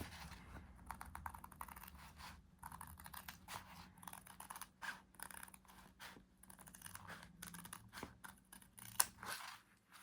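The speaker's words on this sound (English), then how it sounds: "I was liking the sound that the scissors are making." Soft, steady snipping and scraping of scissors cutting through material, close and quiet, with small irregular clicks throughout.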